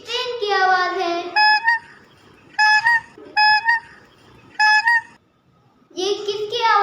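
A horn honks in repeated short bursts with brief gaps, and a voice is heard before and after the honks.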